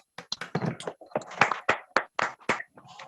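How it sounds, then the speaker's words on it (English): A classroom of students claps for a group presentation in scattered, uneven bursts of hand claps, nearby and moderately loud, with no speech over it. "please give applause to them"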